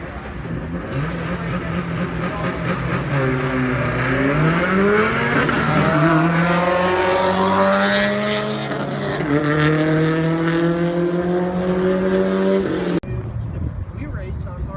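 Drag race cars, including a Subaru, accelerate hard down a street strip. Loud engines rise in pitch through several gear changes over about thirteen seconds, with a crowd and announcer-style chatter mixed underneath.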